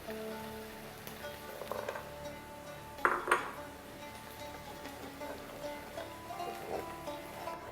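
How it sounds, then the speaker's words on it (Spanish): A knife chops walnuts and almonds on a board in a home kitchen, giving soft, scattered taps and clicks and one sharper clatter, all fairly faint with no one speaking. "Termino de cortar las últimas nueces y almendras que nos quedan"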